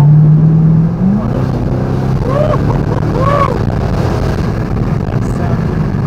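A Chevrolet Corvette C6 with a 6.0 V8 holds a loud, steady low engine drone, with a couple of rising and falling rev swells partway through.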